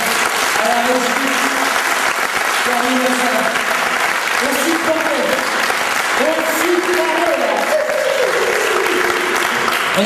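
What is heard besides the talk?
audience applause at comedy festival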